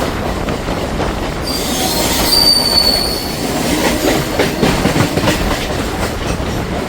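A local train on the Howrah–Amta line rolls into Santragachi junction. Loud rail rumble and clattering wheels carry throughout, joined by a high metallic wheel squeal that rises partway through, with no voices.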